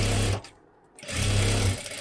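Close, loud whirring of a sewing machine stitching a katori blouse, running in two bursts with a brief pause between them.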